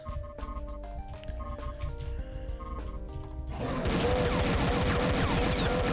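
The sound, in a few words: shotgun fire in a Doom mod video game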